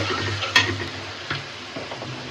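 Ground spice paste fries in a pan with a rohu fish head, a soft close sizzle with light stirring scrapes and a couple of faint clicks, heard alone.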